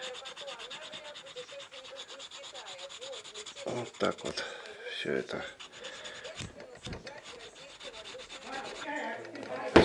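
Edges of a leather wallet being sanded with the tip of a sanding tool, a steady close scratchy rubbing that runs through the whole stretch with short bursts, while someone speaks briefly over it.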